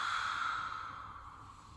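A long, steady exhale during a Pilates exercise with a ball, a breathy hiss heard close up that fades gently over nearly two seconds, with no talking.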